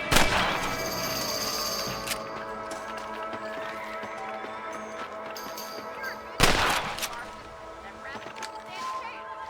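Rifle shots in the video game Red Dead Redemption, a few sharp cracks including a loud one near the start and another past the middle, over ongoing game ambience with hoofbeats and background voices.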